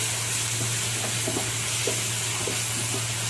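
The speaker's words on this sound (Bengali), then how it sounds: "একটু ভেজে নিচ্ছি।" Sweet corn chilli frying with cumin powder in a pan, a continuous close sizzle with soft stirring scrapes and a low steady hum underneath.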